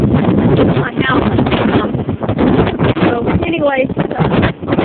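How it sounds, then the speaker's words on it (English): Strong wind gusts buffet the microphone in bursts while a person talks over it, close and loud. "It's so windy out here"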